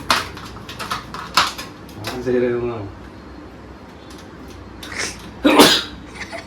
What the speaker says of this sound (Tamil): தும்மல் 2 தும்மல் போட்டுக்கோங்க.